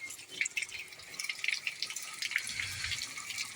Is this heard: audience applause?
no